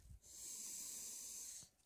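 A long, steady inhalation through the nose at a Strawberry Hill rose bloom in a garden, close and fairly quiet, lasting over a second with a soft airy hiss.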